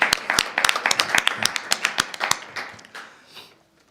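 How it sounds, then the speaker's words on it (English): A short burst of applause at a board of education work session: quick sharp claps that swell at the start, then thin out and fade to quiet within a few seconds. "Let's give them a big round of applause."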